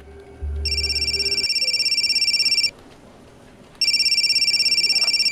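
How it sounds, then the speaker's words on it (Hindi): Mobile phone ringing in an office during a crime drama, a loud electronic ringtone pulsing in two long bursts separated by a short pause, preceded by a low hum. "मेरी मम्मी का फ़ोन है, क्या मैं ले सकती हूँ?"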